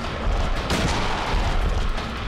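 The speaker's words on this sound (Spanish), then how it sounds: "4 disparos de rifle." Rifle fire in the PS2 survival horror game Silent Hill 2, dense booming gunshots running through the whole short stretch, loud and close with no clear gaps between shots.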